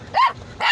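A dog gives two sharp, close barks about half a second apart, the first rising into a clear tonal yelp and the second cut off at the end.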